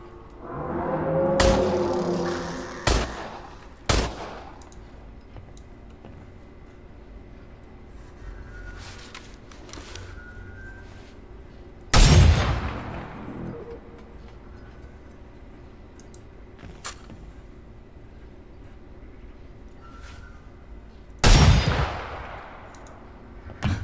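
Gunfire in the video game Industria: a few loud, sharp shots ring out sparsely, separated by long stretches of quiet mechanical ambience, with no talk.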